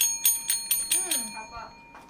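A small hand bell rings in a quick series of about six bright strikes, each followed by a short fading ring, set up beside a pool for a sleepover challenge, with a voice heard briefly near the end.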